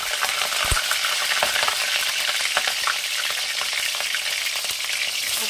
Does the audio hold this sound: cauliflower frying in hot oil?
yes